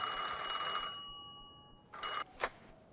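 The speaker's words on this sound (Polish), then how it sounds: "Tutaj gdzieś mi dzwoni już telefon" A telephone rings in the video game Mafia II: a faint bell ring fades out, then two short rings follow, quiet and alone with no talk.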